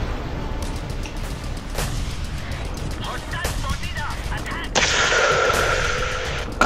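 Gunfire in Just Cause 2 cracks out in scattered shots amid rumbling background noise, with a louder burst of heavy fire toward the end while players talk over it.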